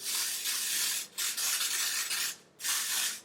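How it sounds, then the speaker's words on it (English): Three hissing bursts of spray from an aerosol can aimed at a lace front wig, each lasting about a second, with short pauses between them. "So I'm just gonna spray this."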